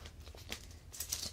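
Paper banknotes handled and crinkled during a bank teller roleplay, giving soft, close rustling and brief tearing-like crackles at a low, intimate level.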